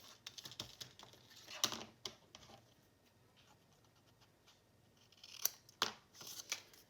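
Scissors snipping paper while trimming a Christmas card piece, quiet close-up cuts in short irregular clusters with pauses between.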